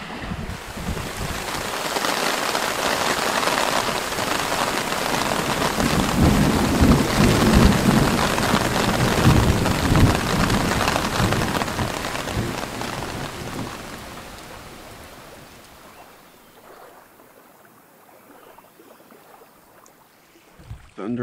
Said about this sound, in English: Thunder off in the distance.